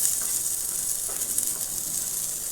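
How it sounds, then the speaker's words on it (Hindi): Spiced vegetables with baby corn, frozen green peas and boiled potato fry in a pan for a samosa filling. The sizzle is a steady, close hiss with no voices. "अब इसको हम थोड़ी भून लेते हैं।"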